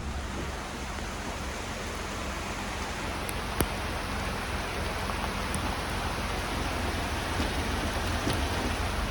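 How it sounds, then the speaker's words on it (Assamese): Heavy rain falls in a jungle area, a dense continuous hiss of drops on foliage and ground, steady throughout with a few faint sharp clicks and no voices. "বহুত বেছি হেভি বৰষুণ দি আছে আৰু এনেকুৱা জংঘল এৰিয়াৰ মাজত বৰষুণ দিলে চাওক ফিল্ডটো চাওক।"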